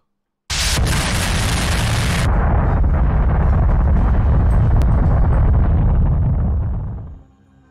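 A huge explosion after a Japan Airlines A350 collides with a Dash 8 on the runway: a loud, sustained roaring blast rumbling for several seconds before fading out.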